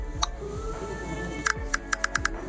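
Keys on a computer keyboard click as lyrics text is typed, one isolated tap and then a quick burst of several crisp clicks, close and fairly quiet over a low background hum.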